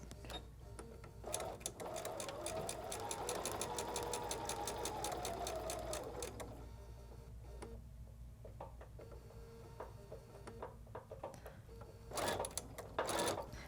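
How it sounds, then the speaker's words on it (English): A sewing machine stitches in rapid mechanical bursts, running fast and steady, pausing, then backstitching again in short runs, close and clear with no talk. "I'll make sure I backstitch to lock everything in"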